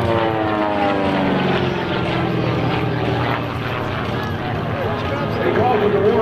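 A propeller general aviation plane drones loudly overhead at an airshow, its engine pitch sliding and shifting as it performs aerobatic vertical rolls, with a voice talking over it.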